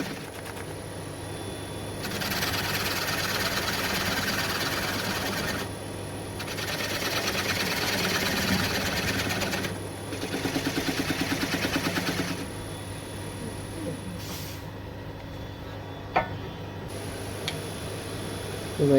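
A bowl gouge riding its bevel across a spinning wooden bowl on a lathe, a steady scraping hiss that swells in long passes and drops back to the motor's hum between cuts.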